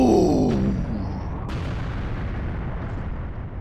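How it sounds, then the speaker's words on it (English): A loud, close boom from an explosion in the Nintendo 64 game Mystical Ninja Starring Goemon, opening with a heavy blast and a couple of sharp cracks, then fading into a long rumbling decay. "I love the face and the explosion"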